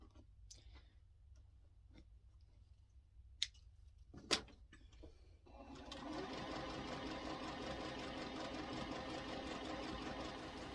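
After a few faint clicks, a sewing machine starts up and runs steadily and quietly, working a lock stitch on a snowman quilt block.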